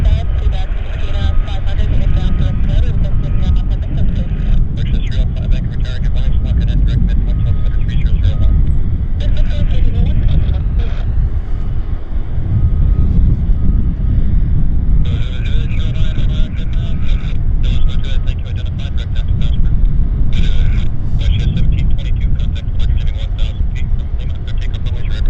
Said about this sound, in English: Westjet is taking off on the other side, heading to Ottawa, I think.